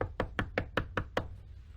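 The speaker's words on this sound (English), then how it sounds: "No one answered at the home when we knocked." Seven quick, evenly spaced knocks on a house door, sharp and close in a steady rhythm, followed by quiet.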